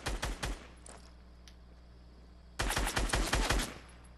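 Gunfire from the video game Fortnite comes in two rapid bursts of sharp, loud shots, separated by a quieter pause of about two seconds.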